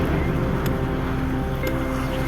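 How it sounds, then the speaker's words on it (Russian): Steady low wind rumble buffets the microphone outdoors in Yakutsk at minus 50°C, a constant dense roar with a couple of faint higher clicks. "вон с протоки ветерок идет, задувает"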